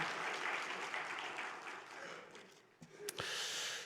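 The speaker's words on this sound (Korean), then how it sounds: "박수는 한 번에." Congregation clapping during a Korean Sunday church service, a soft steady patter fading out, followed by a few sharp knocks or handling bumps.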